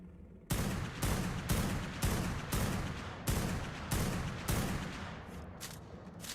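Repeated gunfire in the ARK video game, about nine loud, sharp shots spaced roughly half a second apart, each followed by a short decaying tail, with the final ones quicker and fainter.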